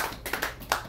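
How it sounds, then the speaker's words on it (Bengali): A few hand claps ring out at a community gathering in Montreal, a short, thin burst of scattered claps rather than a full, loud ovation, with no talking. "এটার জন্য ওনাকে একটা জোরে হাততালি আমাদের দেওয়া দরকার"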